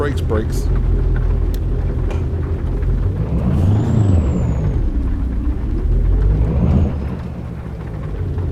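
Heavy truck braking in American Truck Simulator, a loud engine roar rising and falling with a hissing brake sweep, under occasional talk.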